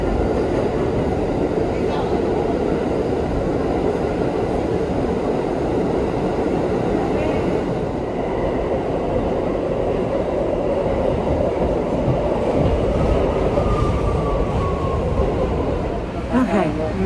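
Steady rumbling of a moving train heard from inside, continuous and loud with faint rattles, and a voice speaking briefly near the end, on a Philadelphia-area commuter train.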